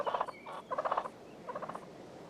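A wild Merriam's turkey of the American Southwest gobbles in three distinct rattling bursts, fairly faint and a little distant, with quiet gaps between the calls.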